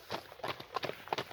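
A horse's hooves clip-clop in a quick, even rhythm of close, distinct strikes over a short stretch.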